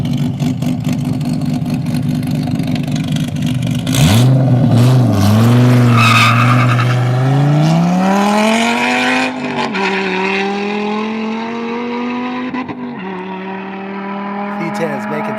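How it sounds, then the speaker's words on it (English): A Dodge Viper V10 with side pipes roars past at an airstrip speed event, its engine note loud and rising through the pass, with tire noise and a fading exhaust drone as it pulls away. "Meanwhile, we get a Viper. Side pipes are making noise."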